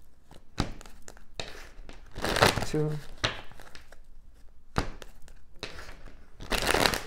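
Tarot cards are shuffled in repeated papery riffles and crinkling bursts, close by, while a voice counts quietly in between.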